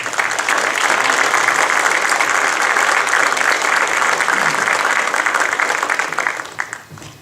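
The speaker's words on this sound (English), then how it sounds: "big round of applause." Sustained applause from the audience at a 13th district congressional candidates forum, loud and dense clapping throughout that tapers off near the end.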